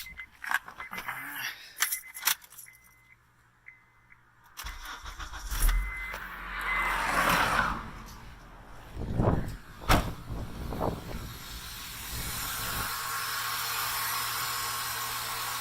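A 2004 Honda car with a repaired steering pump cranks with a brief whirring burst, catches, then settles into a steady low idle that continues to the end, preceded by some clicks and handling noises.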